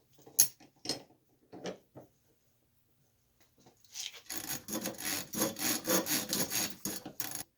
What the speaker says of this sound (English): I'm going to drop down the pipe and use it to wear away that edge.